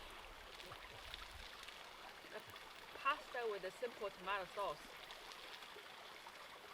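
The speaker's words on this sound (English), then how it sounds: "Going to get all romantic now, Mo, with the bubbling brook" A bubbling brook at a campsite runs as a steady faint trickle in the background while a person talks over it throughout.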